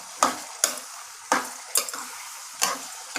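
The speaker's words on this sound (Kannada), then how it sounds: "ನೋಡಿ ಸ್ವಲ್ಪ ಹಂದಾಡಿಸ್ಬೇಕದು" Chicken and chopped onions stirred in a frying pot, a spoon scraping the bottom in about six sharp, separate strokes over a soft sizzle, close up and with no voices.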